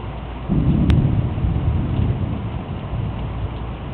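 Thunder rumbles low and heavy during a summer rain, a deep roll that swells after half a second and lingers over a steady hiss of falling rain.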